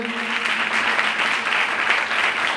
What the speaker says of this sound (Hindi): यीशु मसीह के लिए जोरदार ताली चाहिए।